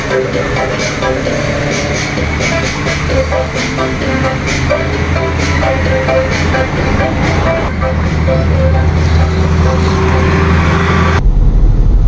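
A 1999 Honda Civic with an automatic transmission, its shift solenoid just cleaned, drives along and shifts through its gears with a steady engine and road rumble that swells slightly, with someone talking over it.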